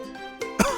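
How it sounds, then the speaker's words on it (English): A person coughs after breathing smoke, two quick harsh bursts close to the listener, the second louder, with a faint rasp trailing after. "It covered me, and now I can't stop coughing."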